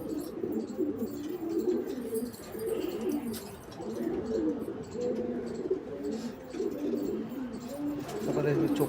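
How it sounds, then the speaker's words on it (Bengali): An Andhra breed pigeon coos in repeated low, throaty rolls close by, the soft calls continuing steadily over faint background chirps and a quiet voice. "এটা একটা আন্ধ্রা পায়রা"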